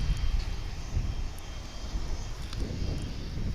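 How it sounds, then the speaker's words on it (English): Airplanes arriving at DFW International Airport, a broad roaring engine rumble with wind noise, steady and fairly loud, rising slightly toward the end, with no talk. "we view the planes coming in this morning"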